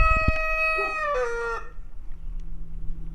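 A rooster outside crows once, loud and near, with a long ringing cock-a-doodle-doo that trails off into faint farmyard background noise.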